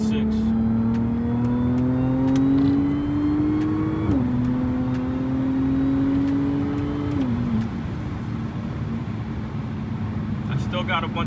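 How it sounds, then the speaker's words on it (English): A supercharged V6 Audi S4 pulls hard from inside the cabin, a loud steady engine drone climbing in pitch through the gears, with two distinct upshifts before it settles into cruising noise. "You guys can get the nice sweet sound of a supercharged V6."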